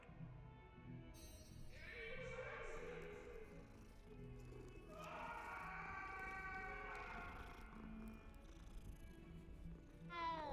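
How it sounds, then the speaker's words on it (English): A cat in the video game Hogwarts Legacy gives drawn-out, tonal meows and purring sounds over a steady game soundtrack, moderately loud, with a couple of longer calls. "Cat."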